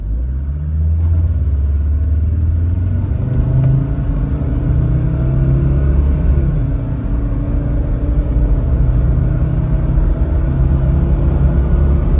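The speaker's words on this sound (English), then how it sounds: "I even like the sound of the 5-cylinder engine" A 2003 Land Rover Discovery 2 TD5 automatic pulls away under its five-cylinder diesel, a loud, close, continuous rumble that gradually climbs in pitch as it gathers speed, with no voices.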